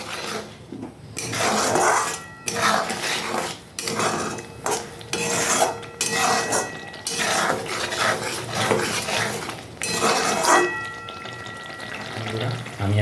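Pointed gourd and prawns are stir-fried in a pan, with a close, rhythmic scrape and clatter of the spatula against metal in repeated bursts over a light sizzle.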